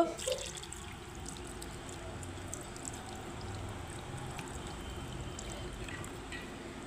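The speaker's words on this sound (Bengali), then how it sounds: "এখন আমি জল দিয়ে দেব।" Water is poured into a hand-mixed Bengali fish curry mixture, making a faint, steady, soft pouring wash throughout with no voices.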